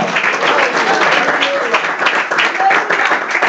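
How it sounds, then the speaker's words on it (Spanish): A church congregation claps loudly and steadily in a sustained burst of applause, with voices mixed in over the clapping. "A su nombre dele palmas si está aquí, si todavía está aquí,"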